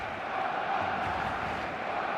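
Dense, steady roar of a football stadium crowd in a video game match, a broad continuous wash of massed voices at constant loudness with no clear chants or peaks, heard alone.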